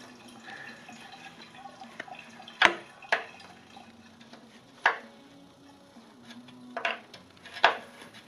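Coolant drains from a Case 430 radiator during maintenance, a quiet trickle with scattered drips and a few sharper metallic ticks and clicks spread across the clip, close by and otherwise calm.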